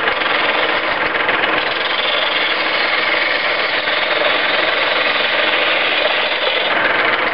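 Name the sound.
wood turning on lathe with smaller gouge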